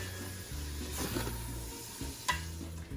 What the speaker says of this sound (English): Just gonna cook it up till it gets browned up nice.